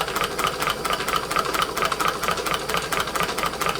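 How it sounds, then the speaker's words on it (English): Large hot air engine running on a Bix burner, a steady rhythmic chugging with a fast regular pulse and a faint mechanical rattle, continuous and fairly close throughout. "this will be a nice engine to take to shows and be able to display"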